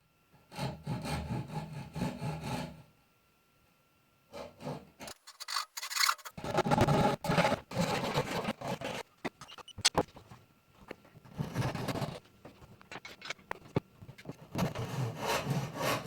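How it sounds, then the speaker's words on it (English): A Japanese handsaw cuts through plywood in steady back-and-forth strokes, close and fairly loud, with a short pause near the start and a brief silent gap before sawing resumes in uneven bursts. "I cut the plywood with a Japanese handsaw."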